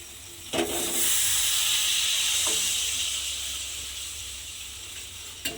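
Water splashes into hot masala for a paneer gravy and sets off a loud, steady hiss and sizzle that slowly fades, with a couple of small clinks around it.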